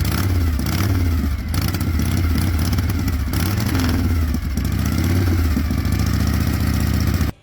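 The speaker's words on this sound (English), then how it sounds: "it appears to be a solid-running vintage Harley that still captures the unmistakable character of classic American V-twin machines." A vintage Harley-Davidson V-twin motorcycle engine runs close and loud, with a steady lumpy idle and light mechanical clatter throughout, then cuts off abruptly at the end.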